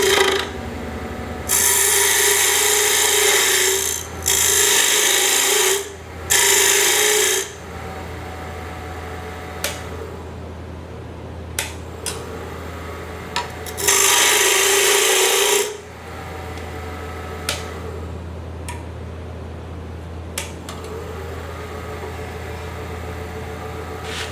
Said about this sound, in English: to push it straight in and cut a tenon